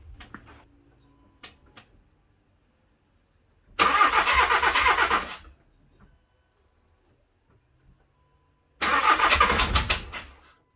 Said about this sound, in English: I'm going to fire it up and see